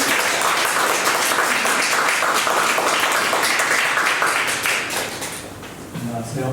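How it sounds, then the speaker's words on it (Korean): Sustained applause from a church worship service audience fills the room, a dense wash of clapping that fades slightly near the end as a voice begins. "우리 박수로 환영할까요?"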